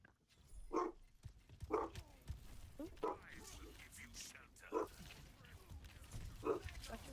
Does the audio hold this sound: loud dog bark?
yes